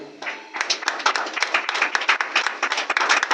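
Church congregation clapping to acclaim the Lord during a Sunday worship service, a steady run of brisk claps from many hands with some voices mixed in underneath.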